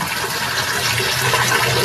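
Water rushes loudly and steadily into a washing machine drum as it fills for a leak test after a gearbox replacement. The close, continuous flow has no talk over it.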